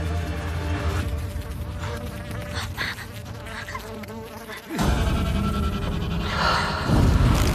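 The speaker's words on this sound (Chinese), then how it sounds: "但这种蜜蜂只存在南非和巴西境内，不可能在这里" A venomous bee, said to live only in South Africa and Brazil, buzzes loudly and continuously in a tense drama scene, its dense drone swelling louder and deeper partway through, with no voices.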